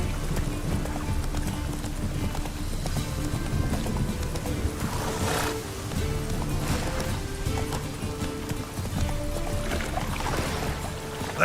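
Roach, a horse in the video game Witcher 3, gallops with rapid, continuous hoofbeats over a rushing ambient game soundscape, loud and close throughout.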